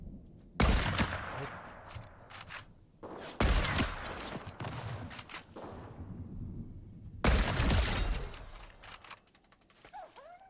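Gunshots in a video game crack out in three separate sharp bursts with quiet gaps between, each volley loud and close with a rattling, clicky texture.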